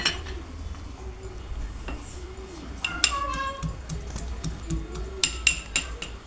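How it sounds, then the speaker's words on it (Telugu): Garlic cloves are coarsely pounded in a kitchen for a horse gram ulavakattu dish, giving scattered sharp clinks and knocks of irregular rhythm over a low background hum. "కొన్ని తెల్లుల్లి రెబ్బలు తీసుకుని చిల్లాపల్లా దంచుకోవాలన్నమాట."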